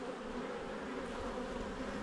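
Honey bees drone in a dense, continuous buzz inside an opened hive during a spring inspection, faint and even throughout with no voices.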